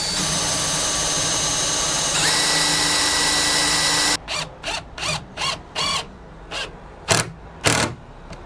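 Screws driven into a green oak timber frame: a steady drill whine for about four seconds, then a run of short, loud bursts as each screw is tightened one at a time, close up with no talking.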